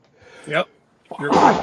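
One person sneezes sharply, then a second, louder burst follows about half a second later. A short spoken word comes between them during a podcast conversation.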